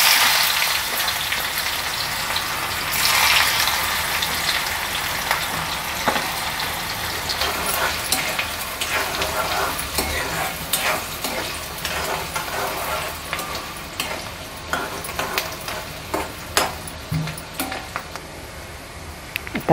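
Garlic cloves and onion frying in oil as tempering for a mackerel recipe cooked in turmeric leaves, giving a continuous crackling sizzle with scattered pops and occasional stirring, close and fairly steady for about twenty seconds.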